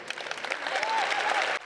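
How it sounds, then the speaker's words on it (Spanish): Spontaneous applause breaks out among mourners at a memorial for victims of the DANA floods. The close, dense clapping sustains evenly, then cuts off abruptly. "Unas palabras que provocaron un aplauso espontáneo al que se sumó la reina Leticia."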